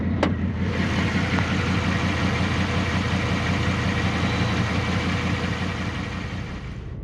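A Lexus LS400 with a 1UZ VVTi V8 and VVTi faults idles roughly, a steady, close, low engine drone with an uneven pulsing beat, lasting throughout with no voices.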